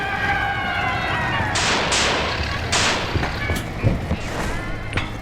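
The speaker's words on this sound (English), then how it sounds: "you shoot the firework inside of the canister, and it will launch and go to it" Firework shot into a canister on the Voyage of Despair map in Black Ops zombies: a few sharp, bright launch bursts cut through a busy mix of game effects and tonal alarm-like sounds.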